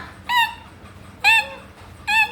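A child imitates a deer's call in a classroom with three short, high, tonal cries evenly spaced about a second apart, close and clear over a quiet background.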